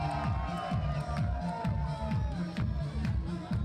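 A wrestling crowd at a pro wrestling show in Nicosia, Cyprus murmurs and cheers in the arena, a busy continuous din with rhythmic chanting or clapping pulses under a commentator's voice.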